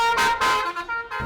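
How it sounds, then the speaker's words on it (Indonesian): A bus telolet horn sounds in a quick burst of bright, melodic multi-tone honks, several pulses in just over a second, loud and fairly close. "Bukan tanpa alasan para pengemudi bis memasang klakson telolet."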